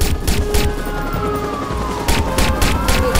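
A police car siren wails with sliding, rising and falling tones during a chase in the video game Watch Dogs, loud and close, with sharp bursts of gunfire repeating through it.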